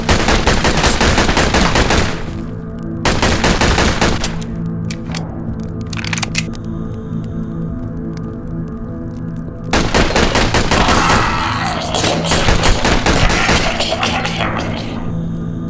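Dense bursts of automatic gunfire from weapons in the indie action-horror shooter Red Alliance, loud and close, with rapid volleys at the start and again near the end separated by quieter ambient game sound.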